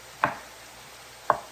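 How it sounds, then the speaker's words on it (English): Two sharp knife strikes slicing meaty mushrooms on a board, spaced about a second apart, close and crisp against a quiet background with no talking. "I'm slicing and chopping some of the mushrooms"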